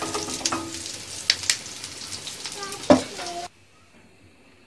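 Makki ki roti fries in ghee on a griddle, giving a soft steady sizzle with a few sharp clicks and scrapes before the sound cuts to near silence.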